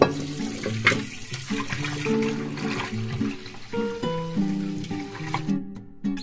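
Water runs steadily from a kitchen tap while fish pieces are washed one by one, with a close, continuous splashing and gurgling as the pieces are moved under the flow.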